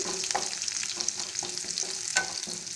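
Garlic sautéing in sesame oil for Andhra-style tomato pappu, a moderate continuous sizzle punctuated by brief stirring clicks and scrapes, with no talking.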